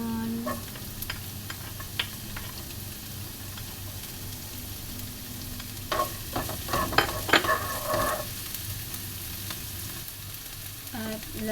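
Onion frying in a pan for vegetable lumpia, a steady soft sizzle with scattered clinks and stirring scrapes that grow busier partway through, heard up close with no talking.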